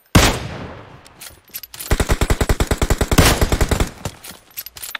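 Rapid automatic gunfire in PUBG Mobile, a loud burst of evenly spaced shots that runs for about two seconds after a single opening shot and a short pause, then trails off.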